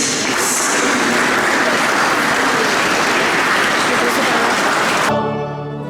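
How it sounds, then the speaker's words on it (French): An audience applauds continuously at a solidarity event on restoring instruments damaged in the Notre-Dame de Paris fire, a dense, steady wash of clapping that stops abruptly near the end. "vous pouvez vous applaudir aussi"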